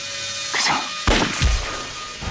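Several sharp, loud gunshot bursts ring out close together during a night raid on a camp in an anti-Japanese war action film, the strongest crack arriving midway.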